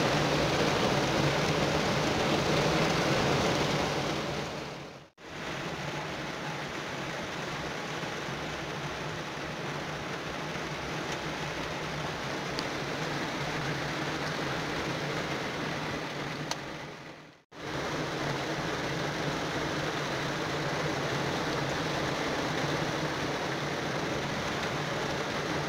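Heavy rain pours steadily at a lagoon, a dense, close hiss of drops that fills the whole stretch and cuts out briefly twice.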